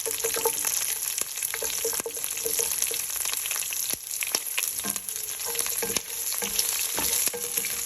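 Onions, curry leaves and garlic frying in a pan for cabbage moong dal curry, a loud continuous sizzle close by with scattered crackles and occasional stirring clicks.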